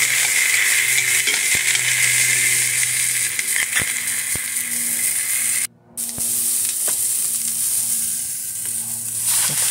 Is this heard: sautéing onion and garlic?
yes